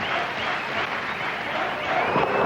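A Sri Lankan cricket crowd applauds a De Silva century in a one-day match at the SSC ground in Colombo, steady dense clapping and cheering that holds across the whole short stretch with no let-up.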